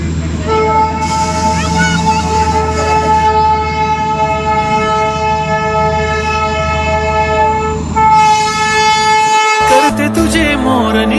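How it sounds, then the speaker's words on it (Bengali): The Darjeeling toy train approaches with its horn sounding long, steady tonal blasts over a loud, close rumble of the engine and wagons, with a sharper clank near the end. "আমি নিচে থেকে দেখে নিয়েছি যে টয় ট্রেন আসছে।"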